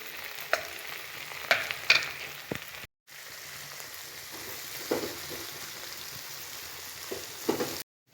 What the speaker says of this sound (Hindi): ਹੁਣ ਇਸ ਵਿੱਚ ਸਾਰੇ ਮਸਾਲੇ ਮਿਕਸ ਕਰ ਦਾਂਗੇ